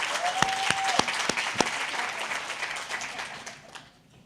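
Audience applause at a panel event honoring women in the trades, with several sharp individual claps standing out over a dense round of clapping that gradually thins and fades near the end.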